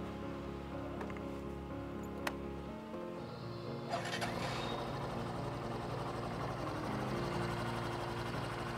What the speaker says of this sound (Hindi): अब स्टार्ट कर लेते हैं ग्लैमर को।